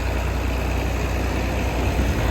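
John Deere 4230 tractor idling while it cools between mowing passes, a steady low rumbling engine drone close by with no speech over it.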